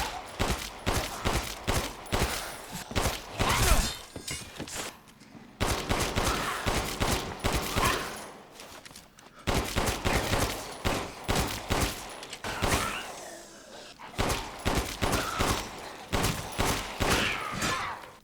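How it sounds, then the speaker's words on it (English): Repeated 1911 pistol shots fired in Resident Evil Village, sharp close bangs in rapid bursts with short pauses between volleys, loud and continuous across the stretch. "it takes about 7 shots with the non-upgraded 1911 to take down a Mora Aika"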